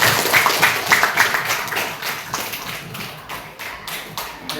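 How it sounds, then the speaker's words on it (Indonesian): A classroom audience claps for a student named Chelsea during a school lesson, a dense patter of hand claps that gradually thins and fades over a few seconds with no talking. "Oke, kita berikan aplaus untuk Chelsea"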